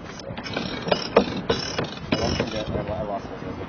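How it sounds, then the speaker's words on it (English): Sailboat winch cranked while heeled over, slightly stuck: a run of clicking ratchet pawl ticks and mechanical clunks, close and moderately loud, with voices and wind around it. "I think I need the winch"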